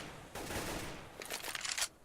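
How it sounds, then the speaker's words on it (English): Rifle fire from Galil and AK guns in a Counter-Strike match at a StarLeague esports event, heard as a continuous fusillade of bursts, dense and steady, then breaking into rapid separate shots before fading, with no voices. "I'm hearing plenty of Galil fire by the sounds of it, an AK fire"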